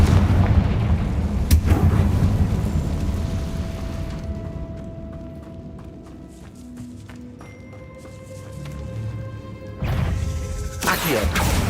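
Confringo fire-blast spells cast in the video game Hogwarts Legacy, booming bursts that strike loud early on and again near the end, with a quieter, rumbling stretch of game sound in between.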